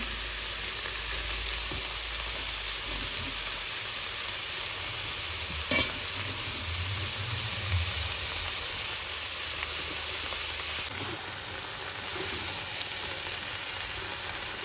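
Cabbage stir-fried for chicken Manchurian sizzles steadily in a hot pan, a continuous close hiss with a sharp clack near the middle and occasional stirring scrapes.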